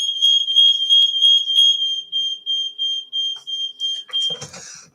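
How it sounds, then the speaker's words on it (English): A smoke alarm beeps in a steady, rapid pulsing pattern, loud and close, with the tone fading in the last second as rustling and clatter take over. "Bloody smoke alarms are a nuisance."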